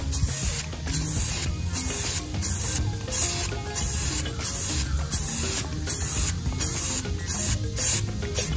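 A spray can laying a very light white coat onto a tumbler being decorated with alcohol inks, heard as steady bursts of hissing spray with short pauses, close and fairly loud, with no talking.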